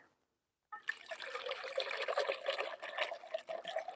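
Water is poured into a camping stove's pot after a moment of silence, a close, continuous splashing trickle that keeps running to the end.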